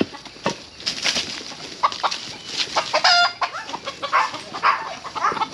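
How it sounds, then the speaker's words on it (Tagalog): Several chickens cluck and squawk close by in quick, irregular bursts, some calls overlapping, with a brief crow-like cry mid-way. "Ito po manok."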